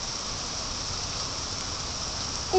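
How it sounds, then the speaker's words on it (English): Afternoon thunderstorm rain falls in an even, continuous hiss without pause, with a brief sound cutting in right at the end. "It started raining."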